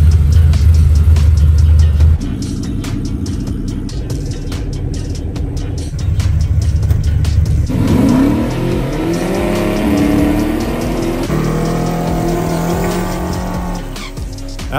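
A Chevrolet Malibu drag car with a nitrous system does a burnout at a drag strip: a loud engine drones and revs in changing steady tones, then the tires squeal and screech for several seconds before the engine settles again.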